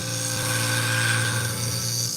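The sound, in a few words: sharpening industrial scissor blade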